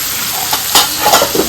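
Okra and fish frying in a pan with salt and turmeric, stirred with a utensil; a steady loud sizzle runs throughout, with a few scraping strokes against the pan.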